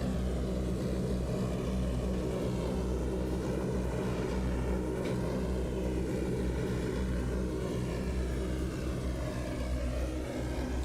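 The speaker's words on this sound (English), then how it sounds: "Give it full into the reverse thrust. Full power." A Lockheed L-1049 Super Constellation's propeller engines run at full reverse thrust in a flight simulator game, giving a loud, steady, dense engine roar that holds throughout with no pauses.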